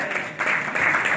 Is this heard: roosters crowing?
no